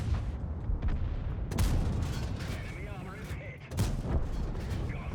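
In World of Tanks, heavy tank cannons fire in several booming blasts, one around the middle and another near the end, amid rumbling battle noise, with someone talking over the action.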